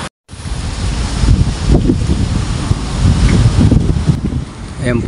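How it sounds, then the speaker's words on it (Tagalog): Typhoon Pepito's wind gusts across the Calabarzon area in the Philippines, a loud, steady broadband roar with rumbling buffets against the microphone lasting throughout, after a brief dropout at the start. "nag-uumpisa na po ang hangin na dala ni Typhoon na Pipito dito sa aming area ng Calabarzon"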